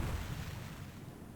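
Airburst shell bursting in the Hogs of War video game, a dense low rumbling blast that decays over a second or so into a fading boom, with no voices over it.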